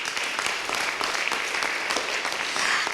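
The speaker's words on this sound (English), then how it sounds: "Give yourselves a round of applause." A room full of people claps steadily after being invited to applaud themselves at a press conference announcing clean communities grants, the dense, even applause continuing loudly throughout.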